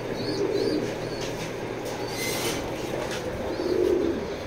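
A breeding pair of pigeons in a loft coos in low, throaty phrases, with two distinct rounds of cooing near the start and end over steady background hum and faint chirps.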